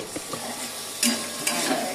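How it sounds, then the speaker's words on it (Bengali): Slices of bitter gourd frying in a pan give a soft continuous sizzle, broken by a couple of brief scraping stirs and light clinks of a utensil, heard up close. "এই যে উচ্ছে ভাজা বসিয়েছি"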